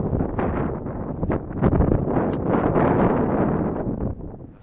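Gusts of wind along the Baltiysk sea canal, loud fluctuating buffeting against the microphone that surges and eases over several seconds, close and rough.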